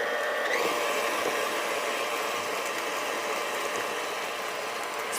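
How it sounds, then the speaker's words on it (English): An electric mixer whirs steadily as it beats molasses cookie dough with egg, a constant motor drone close by with no talking. "if you have a machine that's mixing it for you"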